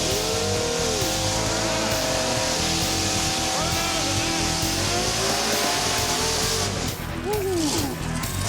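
Roaring 1,600 horsepower drag racing car doing a burnout at a drag strip, loud continuous engine howl with rising and falling revs that fills the whole stretch, with people talking over it.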